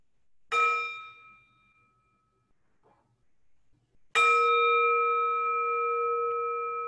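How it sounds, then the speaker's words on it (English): A mindfulness bell struck twice during a meditation session, each clear metallic ring blooming loudly then fading slowly, the second strike sustaining through to the end in a quiet room. "Let's have a sound of the bell to enjoy our breathing."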